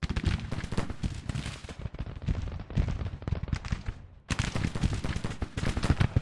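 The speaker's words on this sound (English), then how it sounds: "There's the Irish firing again." Irish troops firing in the Grand Tactician Civil War strategy game: a dense, crackling volley of musket shots rolling on continuously, with a short dip before a renewed burst of fire.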